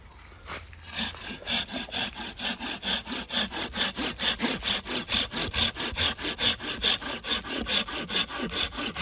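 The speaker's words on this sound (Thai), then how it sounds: "เราเลื่อยมือเดียวนะครับไม่ได้สองมือนะครับ" A Gyokucho razor pruning saw, used one-handed, cuts through wood in quick, even back-and-forth strokes, a rhythmic rasping that continues steadily from start to finish.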